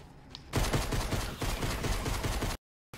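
Rapid pistol gunfire in Fortnite, a loud close burst of repeated shots lasting about two seconds, followed by a brief moment of silence.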